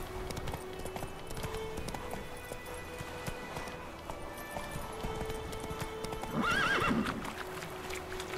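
Hooves of a horse in The Witcher 3 beat at a steady galloping rhythm under game ambience, with a brief whinny rising partway through.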